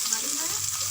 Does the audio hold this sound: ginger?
yes